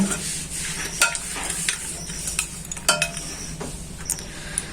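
Mutton and potatoes for mutton biryani are stirred and fried in a pan, a steady sizzle broken by repeated scrapes and metal clinks of the spoon against the pot, close and fairly loud, with no talking.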